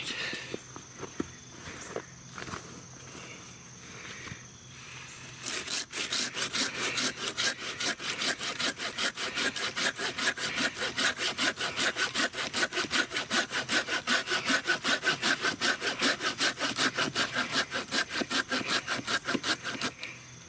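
Corona 10 inch Razor Tooth hand saw cutting through wood: a few light scrapes, then a long run of fast, steady back-and-forth strokes, close and clear with no talk.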